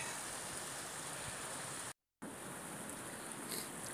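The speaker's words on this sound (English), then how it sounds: "this is known as the Bronte waterfall" Steady rushing water from the Brontë waterfall on a moorland hike, a constant broadband wash heard close and fairly quiet, with one brief dropout midway.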